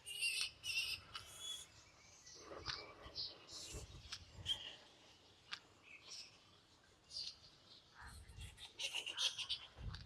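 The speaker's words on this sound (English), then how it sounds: "listen to the sounds of those birds" Scattered bird calls and chirps ring out from several directions among faint croaking and soft rustling, with quiet gaps between bursts.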